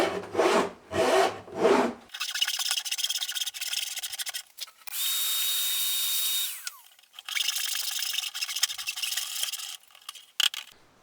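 Slotting a guitar fingerboard cut from a hard new timber: a few rough rasping strokes, then long stretches of fine, fast sawing, broken by a smooth steady machine whir, all close and free of talk.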